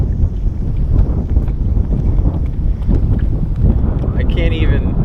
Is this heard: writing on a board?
no